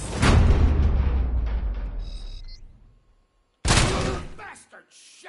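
Bursts of rapid gunfire in the video game Robocop: Rogue City, loud and dense, fade out, then return abruptly after a brief silence with scattered shots.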